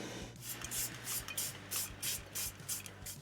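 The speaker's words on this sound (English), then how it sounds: "I'm just going to spray the inside basket with some cooking spray" Several short bursts of cooking spray hiss onto the inside of an air fryer basket in a quick irregular rhythm, close and fairly quiet, over a low steady hum.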